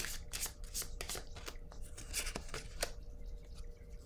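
Tarot cards are riffled and shuffled by hand, then drawn from the deck, giving dense papery flutters and snaps close to the listener.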